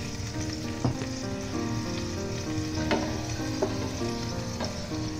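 A mixture of orange juice and nolen gur (date palm jaggery) simmers in a pan with a continuous low bubbling sizzle and occasional soft pops and clicks, close and steady, without any talking.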